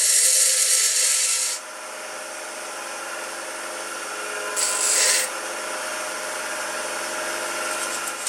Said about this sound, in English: Then grind the rim off the case